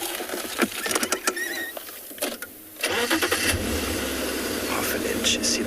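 A safari vehicle engine at Tswalu starts and then idles steadily as the vehicle edges forward, preceded by scattered rustles and clicks, with people talking quietly nearby.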